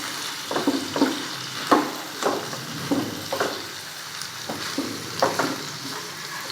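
Onion and cashews fry in a pan with a steady close sizzle, broken by repeated scraping strokes of a spoon stirring every second or so.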